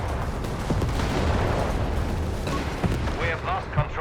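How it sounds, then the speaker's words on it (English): Tank cannon fire from a panzer in the World War II strategy game Company of Heroes 3, booming within a dense, continuous wash of battlefield rumble and gunfire, with a voice talking over it. "We're taking panzer fire here!"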